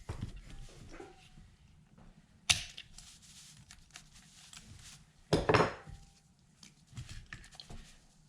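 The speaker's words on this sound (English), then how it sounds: "we're gonna use the sharp knife to cut it off" Sharp knife slicing a part off an Apeks XTX 50 second stage regulator during servicing, with quiet scraping and handling noises, a sudden snap near the middle and a louder crackling cut toward the end.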